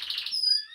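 Canaries chirp and trill in a breeding room, a brief dense burst of high bright notes giving way to a few thin, sustained whistled tones, close and moderately loud.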